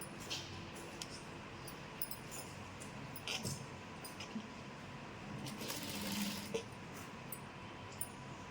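A sewing machine runs a stitch along the folded bottom hem of chudidar pants, joining the two layers; a steady, fairly quiet mechanical whir with small surges and light ticks, with no talking.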